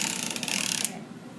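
Sock knitting machine cranked through a final row, a dense clattering mechanical ratcheting close up that runs steadily, then stops abruptly near the end, leaving quiet room tone.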